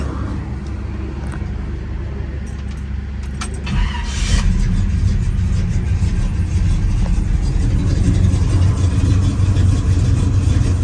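A 1955 Chevrolet Bel Air with a 350 V8 idles with a lope, a loud, close, steady rumble with a rhythmic uneven pulse that swells slightly after a few seconds, along with faint clinks nearby.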